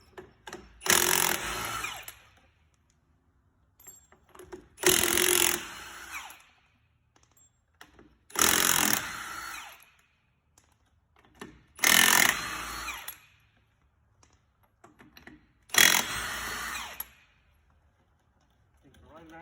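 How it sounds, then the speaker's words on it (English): An impact wrench spinning lug nuts off a car wheel, five separate loud bursts of whirring and rattling a few seconds apart, close by, with near silence between them. "you get the right socket and impact and take the wheels off"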